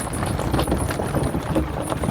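A stallion being shown for sale in a village walks with steady clip-clopping hooves, heard close and moderately loud over a windy outdoor background.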